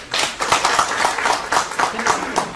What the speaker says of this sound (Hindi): एक बार उनके लिए तालियां बजाइए